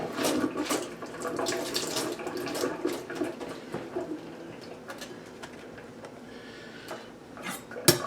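Cauliflower is washed under a running kitchen tap, with water splashing and gurgling continuously and close by while pigeons coo faintly in the background.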